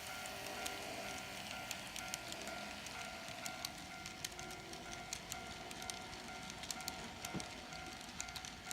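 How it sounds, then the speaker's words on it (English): A small N scale Kato U25b Santa Fe model locomotive runs steadily, giving off faint rattling and light clicking over a soft continuous rumble, quiet and fairly close. "now it's time to run some trains"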